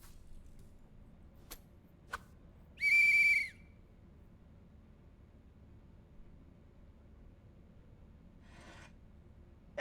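A single loud, shrill whistle blast lasting about half a second sounds against a quiet background with a few faint clicks, blown at a door in the Leisure Suit Larry adventure game.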